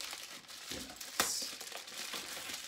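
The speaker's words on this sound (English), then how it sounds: "So, bubble wrap, and then if there's a pump, an extra plastic bag." Bubble wrap and an extra plastic bag from product packaging are handled close by, giving soft crinkling and rustling with one sharper crackle partway through. No one speaks.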